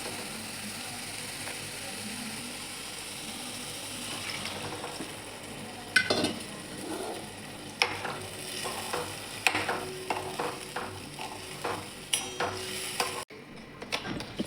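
Drumstick pods fry in well-roasted, oily masala in a pan, giving a soft steady sizzle. Later, repeated clinks and scrapes from stirring come in a loose rhythm, followed by a brief pause near the end.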